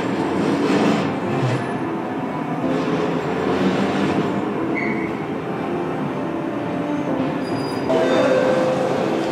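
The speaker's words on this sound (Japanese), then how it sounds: "列車で高岡を目指します" A train bound for Takaoka in Japan's Hokuriku region rumbles along steadily, with wheels rolling on the rails and a brief high squeal in the middle, with no voices.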